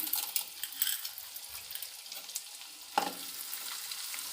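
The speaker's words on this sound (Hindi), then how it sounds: "घी गरम हो गया है, हम इसमें अब थोड़ा थोड़ा गोंद डाल के भून लेते हैं" Edible gum (gond) fries in hot ghee with a soft, steady sizzle and crackle, punctuated by a sharp metallic clink from a spoon against the pan, close and fairly quiet, with no speech.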